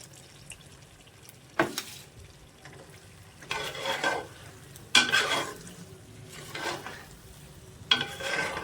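A spoon stirs bottle gourd halwa with fried nuts in a pan, in repeated bursts of scraping and soft frying, each lasting about a second, separated by quieter pauses, with no voices.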